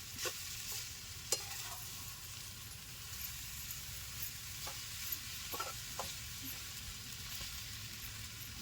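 Tempered rice (phodnicha bhat) stirred and turned in a pan, a soft, low scraping and gentle sizzle with a few light clicks of the spoon, quiet and steady with no talk.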